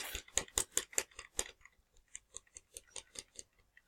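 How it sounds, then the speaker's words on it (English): A computer mouse button clicked over and over during a game, crisp sharp clicks in a fast even series that slows slightly after a short gap, close and fairly quiet, with no voices. "I'm just clicking that one button."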